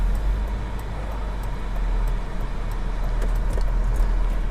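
A car drives through the Stonegate neighborhood of Davis, heard from inside as a steady low road rumble and engine drone. Faint ticks and rattles recur over it, and no one speaks.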